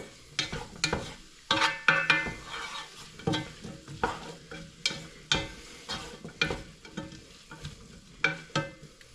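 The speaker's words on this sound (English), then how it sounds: "we want them to kind of brown in this oil and cook the same amount of time as this garlic" Vegetables and garlic fry in oil in a pan while being stirred, with soft sizzling under repeated scraping and clacking strokes of a utensil at an uneven rhythm, close and fairly quiet.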